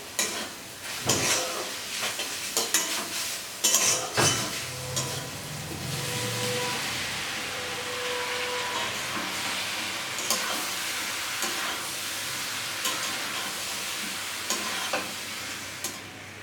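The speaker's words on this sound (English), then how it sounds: "Half teaspoon turmeric powder, coriander and red chili powder. Stir it well." Turmeric, coriander and red chili powder get stirred into raw papaya curry with ginger, garlic and tomato in a hot pan, with a steady close sizzle throughout and repeated scraping and clinking of the spoon, busiest early on.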